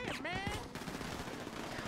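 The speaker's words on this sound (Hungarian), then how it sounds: "itt lövöldöznek a csajok" Rapid gunfire from GTA V gameplay, dense automatic bursts that crackle steadily throughout, layered with game sound effects and some voices underneath.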